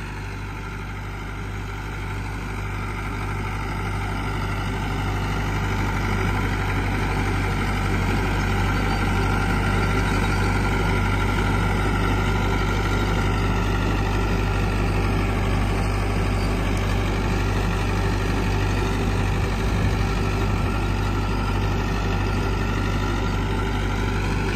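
A tractor pulling a rotavator in second gear while preparing a field for maize planting, a steady loud diesel drone with a slightly wavering pitch that holds for over twenty seconds, close by and without talk.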